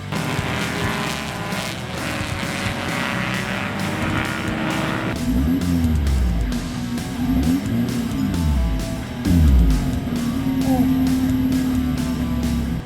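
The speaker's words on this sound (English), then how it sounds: "The race is in full swing, and the competition and cars are scorching hot as driver 3 begins his session." Race cars on a track during an endurance-style amateur race, engines roaring continuously with several loud pass-bys sweeping past, plus brief tire noise, no talking.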